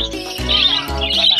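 Parakeets in a small cage chirp in short, bright bursts, close and fairly loud over a brief moment, with no talking.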